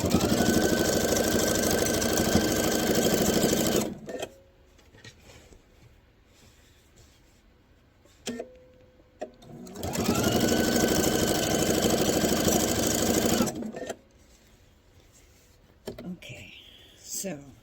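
A sewing machine stitches a quilted star heart table runner, running in two steady bursts of about four seconds each with quiet handling noises between them.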